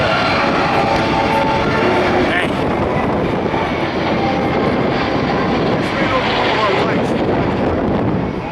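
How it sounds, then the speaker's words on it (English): Military aircraft pass overhead at the Cleveland Air Show on Labor Day 2017, a loud, steady engine roar with wind buffeting the microphone, while an announcer talks over it. "The aircraft are now repositioning for their last pass."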